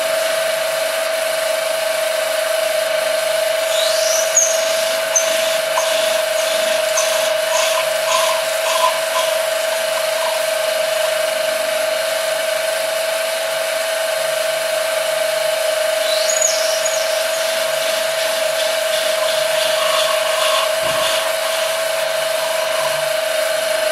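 A power drill runs with a steady, unbroken whine for a long stretch, close and loud, with faint bird chirps in the background.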